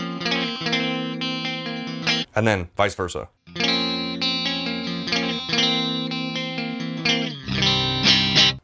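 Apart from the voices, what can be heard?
Epiphone Explorer electric guitar with coil-split pickups through effects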